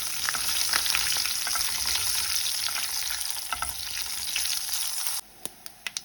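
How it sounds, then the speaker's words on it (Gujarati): Curry leaves and chopped green chili crackle and sizzle in hot tempering oil with asafoetida, a steady dense frying hiss that drops to a few sharp pops near the end. "પાંચથી છ મીઠા લીમડાના પાન નાખીશું એક લીલું મરચું નાખીશું સમારેલું અને વઘારને તરત સાતળી લઈશું"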